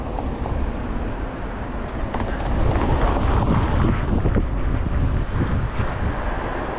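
Strong seashore wind at Mar del Plata buffets the microphone in a steady, loud roar with gusty swells, with distant surf mixed in and no clear talking.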